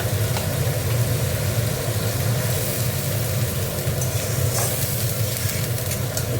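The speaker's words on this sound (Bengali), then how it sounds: "এটা পেঁয়াজ আর টমেটো আছে, এটাকে ভালো করে তেলে ভালো করে ভেজে নেবো, মানে কষে নেবো।" Onion and tomato fry in hot oil in a pan for a Bengali egg curry, giving off a steady, close sizzling hiss throughout with no one speaking.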